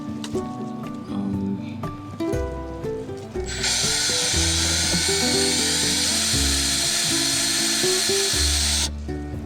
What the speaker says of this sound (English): I'm gonna drill another hole over here